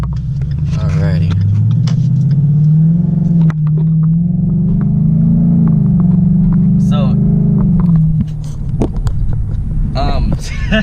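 Car engine rising in pitch as it accelerates after a BAMA REV X tuner install, a steady loud rumble climbing through the gears before easing off near the end.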